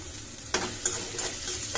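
Dried fish (shutki) hits a hot pan in a home kitchen and bursts into a loud, steady sizzle after a brief quiet moment, crackling on without any voices.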